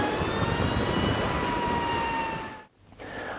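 Lightning LS218 electric superbike accelerating on a road, a loud steady high-pitched electric whine with rising tones and rushing wind noise, briefly dropping out near the end before resuming.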